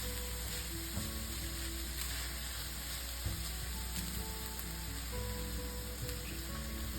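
Ground beef and garlic browning in a skillet with most of the fat drained, a steady, even sizzle that holds close and constant throughout with faint stirring scrapes, no voices.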